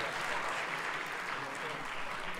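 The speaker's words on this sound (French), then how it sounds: "vous avez applaudi" An audience applauds at a debate event, a dense sustained burst of clapping filling the whole moment at moderate distance with no voices on top.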